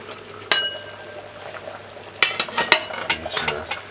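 Butter stirred into a pot of Jamaican chicken foot stew peas, soft sizzling with a spoon clinking against the pot in a few sharp taps, clustered near the end.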